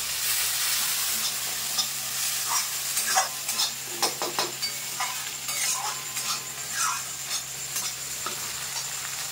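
Green chili paste fries in hot oil with a fish recipe on the stove, a steady close sizzle with a cluster of sharp crackles and utensil taps in the middle, fairly loud with no talk.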